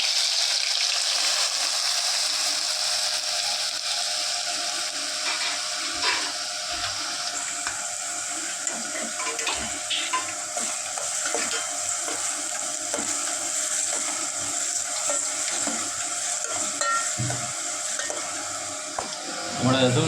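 Onions frying in a pan on a home stove, a dense continuous sizzle with scattered stirring clatter, close and strong throughout, with a voice faintly under the cooking.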